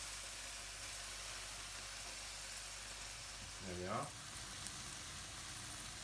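Food sizzles faintly and steadily in a pan with a soft hiss, as someone speaks briefly partway through.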